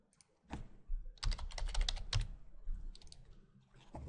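Keys clatter on a computer keyboard in quick irregular bursts while a folder is created in a PHP upload project, close up with short pauses between runs of keystrokes.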